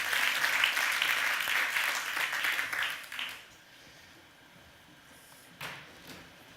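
Audience applause at a live magic and technology stage show, dense clapping for about three seconds before thinning out to a few scattered claps.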